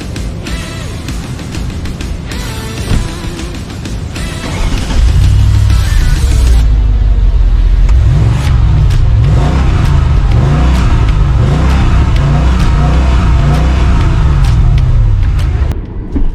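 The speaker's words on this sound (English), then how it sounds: "Driving the E55, I'm gonna be giving it a little bit of gas." A Mercedes-Benz E55 AMG (W211) supercharged V8 roars into hard acceleration, its deep rumble climbing steadily in pitch, loud and close, after some brief cabin noise at the start.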